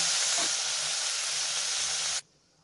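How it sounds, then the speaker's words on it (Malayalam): Sliced onions with a little salt sizzle in a pan for egg curry, a loud, steady hiss that holds evenly for about two seconds and then cuts off abruptly. "നല്ലൊരു ഷെയ്ഡ് വരുന്നവരെ ഇളം ബ്രൗൺ കളർ ആകുന്നവരെ ഇതൊന്ന് വഴറ്റിയെടുക്കാം"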